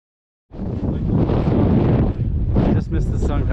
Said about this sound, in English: there's probably a 50-mile-an-hour wind here